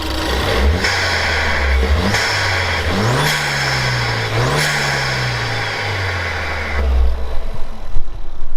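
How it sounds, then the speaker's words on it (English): Car engine revving: several rising and falling revs with one sustained higher rev, loud and close, then settling back toward idle with some rattling noise at the end. "Give it a rev."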